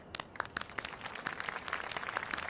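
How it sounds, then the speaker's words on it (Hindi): A studio audience at a game show claps for the players, a fairly faint, steady patter of many hands. "हमारे इस खेल के प्लेयर्स के लिए एक बार फिर तालियां।"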